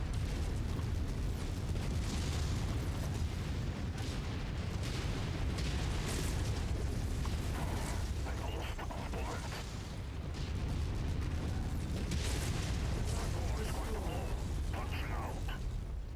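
Rapid chain-fired mech weapons in MechWarrior 5: Mercenaries, a dense, continuous barrage of booming shots and explosions rolling steadily throughout, with a player's voice talking over the din.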